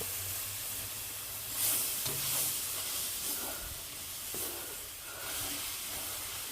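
Milk is poured into a pot of onions cooking with flour. A steady, fairly loud hiss swells in short steamy surges and eases again, with no talking.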